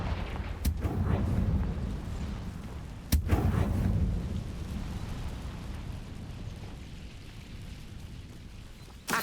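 A Confringo fire blast spell goes off in Hogwarts Legacy, sharp booming cracks, one early and a louder one near the middle, each trailing into a rumbling decay over low game noise.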